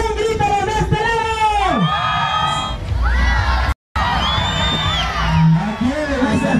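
Spectators at a Bikini Open contest shout, whoop and cheer in loud repeated bursts, with ragged yelling voices rising and falling and a brief gap of silence partway through.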